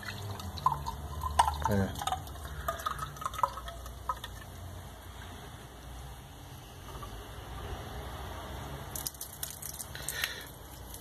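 Tap water from a household faucet in São Paulo runs and drips into a glass, coming out milky white, with splashy trickling and small clinks under a speaking voice.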